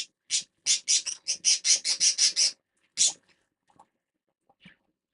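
Pet birds chirp indoors in a home craft room, a quick run of about a dozen close, bright chirps followed by a few scattered softer calls, with no talking.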